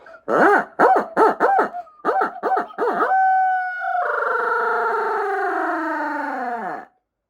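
A person imitates an owl's 'who cooks for you' hooting call: a quick series of short vocal hoots followed by a long, wavering, descending drawn-out note, loud and close.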